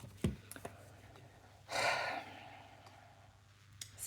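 A loud, breathy exhale swells and fades like a heavy sigh, preceded by a short snort-like puff, all close and otherwise quiet.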